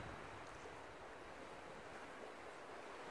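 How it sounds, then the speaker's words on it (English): Steady wind rushes through a lakeside backpacking campsite in Algonquin Park in April, a continuous broadband roar with gusty surf-like texture and no voices, loud and close to the microphone throughout. "Bit of wind blowing through here though."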